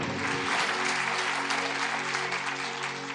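A congregation applauds during a sermon, producing steady, dense clapping that holds evenly from start to finish with no talking over it.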